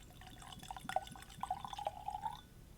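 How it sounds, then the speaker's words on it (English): Balvenie 14 Caribbean Cask whisky being poured into a glass, a soft, close trickle and gurgle lasting about two seconds before tapering off, quiet overall. "Pouring time."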